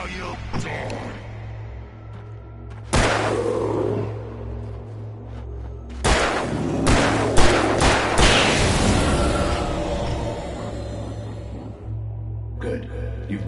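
Gunfire in Alan Wake: several loud, sharp shots and bursts with booming tails over a low rumbling background, spaced irregularly and close.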